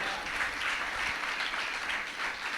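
An audience at a Telugu Christian sermon claps together in a steady, continuous wash of applause that holds an even level for a few seconds with no voices over it.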